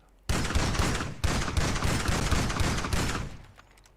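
Gunfire in GTA 5 Online, a loud close sustained barrage of rapid shots running for about three seconds with brief breaks before fading out.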